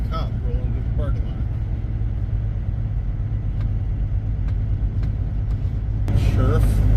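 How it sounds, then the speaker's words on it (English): A sheriff's police car rolls slowly through a truck stop parking lot, a steady low engine rumble with faint idling trucks in the background and no talk. "There's a cop rolling through the parking lot."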